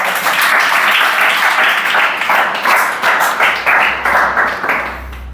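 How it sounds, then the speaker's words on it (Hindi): A classroom of students claps loudly on cue in a coaching class, a dense burst of hand claps that pulses in uneven waves and stays close and strong, with no talk over it. "चलो ताप्ती के लिए जोरदार ताली बजाओ।"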